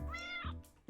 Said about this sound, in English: We have kitty.